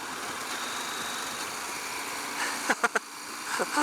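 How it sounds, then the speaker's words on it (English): KTM 890 Adventure R motorcycle engine on a fast ride, a steady drone with wind noise that breaks into several sharp, quick blips late on as it downshifts without the clutch, no talking. "Let's see how good the quick downshifting is"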